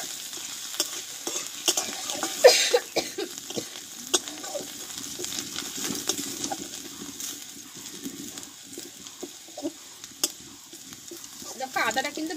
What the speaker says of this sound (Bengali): আর দেবো একটু হলুদ গুঁড়ো দিয়ে আদাটা একটু ভালোভাবে ভেজে নেব আমি।